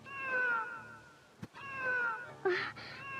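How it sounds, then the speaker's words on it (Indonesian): A cat meows on a house roof at night, several drawn-out calls in a row with a short pause between them, fairly close and clear over a quiet background. "Aku mendengar suara kucing di atas atap rumahku."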